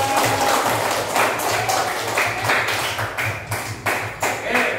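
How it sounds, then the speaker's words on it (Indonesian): A small group claps hands steadily for several seconds, close and moderately loud, with slightly uneven rhythm. "Tepuk tangannya untuk kelompok Garuda."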